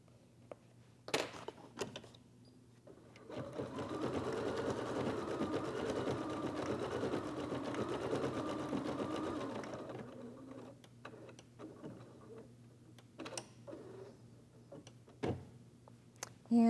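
An embroidery machine stitches a bird's beak design for an in-the-hoop egg holder, its steady rapid needle chatter running about six seconds, framed by softer clicks and thread-trim taps before and after.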